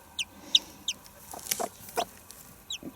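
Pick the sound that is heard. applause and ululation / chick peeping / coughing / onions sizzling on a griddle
chick peeping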